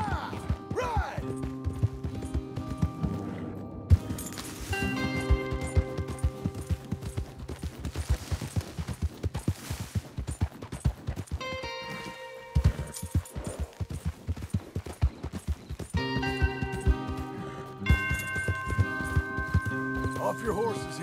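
Horses gallop in Red Dead Redemption 2, steady hoof clatter running throughout under a musical score, with bursts of gunfire and characters talking over it.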